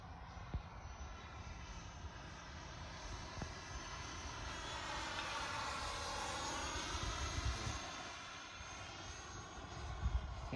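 A foam board radio-controlled jet with a 64mm electric ducted fan flies at two-thirds to three-quarter throttle, giving a steady, loud whooshing whine that swells and shifts in pitch as it passes, with no talking.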